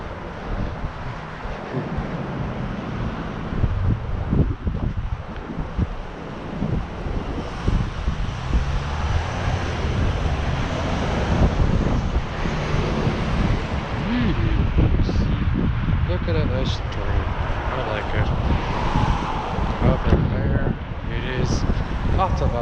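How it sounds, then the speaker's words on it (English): Storm wind buffets the microphone outdoors with a continuous loud rumbling roar and gusty swells throughout, dense low-frequency blustering with no clear pauses. "Now it's windy because of the storm this way."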